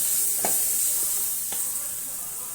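Onions sautéing in a pan with cinnamon, clove and fennel give a steady, close sizzle throughout, with a couple of brief stirring scrapes and no talk.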